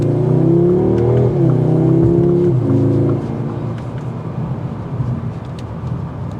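A 2023 Audi S3 engine revs hard as the car accelerates up onto the interstate, a loud rising drone with gear shifts, then easing into a steadier, quieter road and wind roar.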